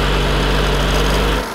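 A BMW engine runs hard and steady at around 3,000 RPM with no oil, loud and close, a sustained dense roar that cuts off abruptly near the end.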